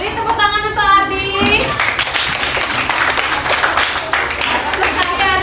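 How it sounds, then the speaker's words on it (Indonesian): Classroom children clap for a classmate in a burst of scattered applause that follows a short spoken bit at the start and carries on fairly loud to the end. "Beri tepuk tangan untuk Ardi"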